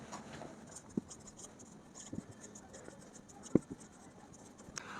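Pen or pencil writing on paper during a Hindi-language Class 10 maths lesson, faint scratchy strokes with a few sharper taps, quiet and close with no talking.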